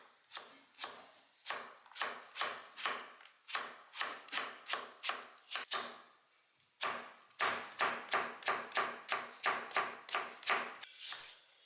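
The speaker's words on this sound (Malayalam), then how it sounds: "പിന്നെ ചെറുതാക്കി അങ്ങനെ നുറുക്കാം" Vegetables such as elephant foot yam chopped with a knife on a board for a Kerala thoran, a quick run of crisp close chops in two bursts separated by a short pause.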